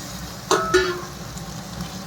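Spice masala fries in oil in a pan and sizzles softly underneath. Two sharp scrape-and-sizzle bursts follow in quick succession, much like a spatula stirring, with no talking.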